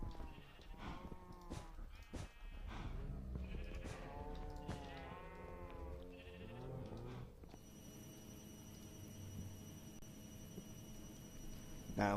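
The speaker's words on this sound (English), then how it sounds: "That sounds terrifying. Zombie cows." Warbling, bleating animal cries that sound like distorted game mobs, repeating over several seconds, then a flat electronic hum takes over.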